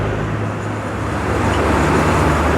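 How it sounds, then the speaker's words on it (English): A Ford Transit van's engine drones close by as it rolls past in a New Year's Day tractor parade, the rumble swelling toward the end over steady road noise. "I seem to have caught a Ford Transit in their tractor parade."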